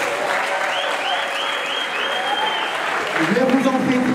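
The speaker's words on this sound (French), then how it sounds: "Mesdames et messieurs, on applaudit l'ICC." Audience applause at a French debate on artists and madness: steady, dense clapping from a crowd that swells slightly near the end.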